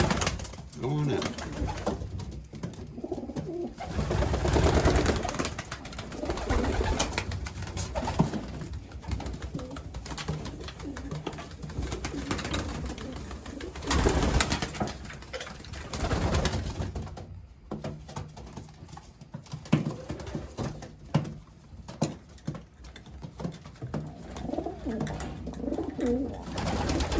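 Young pigeons coo and shuffle on a loft landing board, with continuous soft cooing and wing flutters close by while a person talks intermittently over them.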